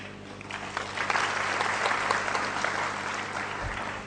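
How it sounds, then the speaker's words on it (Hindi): Sustained applause from a seated audience at a Hindi talk: dense, even clapping that swells slightly and holds steady, with no speech over it. "तो ताली दो तरह की होती है।"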